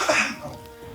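A single short cough, close and fairly loud, fades quickly into a quiet room.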